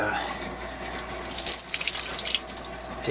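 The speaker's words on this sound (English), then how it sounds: "I'm going to empty the water out" Water is poured out of a rock tumbler barrel in a steady, close splashing stream that swells louder partway through.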